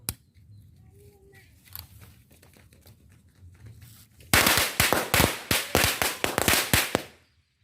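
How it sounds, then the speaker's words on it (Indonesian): After a few quiet seconds, a string of firecrackers bursts into loud, rapid popping, a dozen or so sharp cracks in quick irregular succession, then stops. "Ini kita cobain ini dulu, petasan rentengan"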